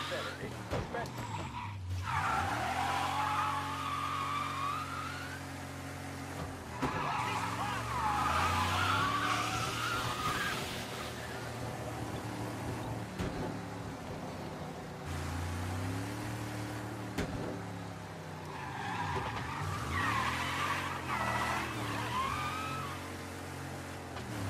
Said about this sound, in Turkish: Arabanın dönüşü falan efsane ya.